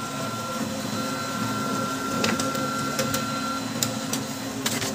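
A Brother DCP-L2540DW laser printer making a copy gives off a steady mechanical hum with a constant whine, plus brief clicks and clunks near the end, all close and fairly loud with no talk.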